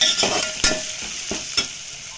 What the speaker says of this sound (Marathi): आपण बनवलेलं तिळीचं आणि खोबऱ्याचं वाटण घ्यायचं दोन काड्या कडीपत्ता घालून घ्यायचा आहे हे चांगलं व्यवस्थित मिक्स करायचं आहे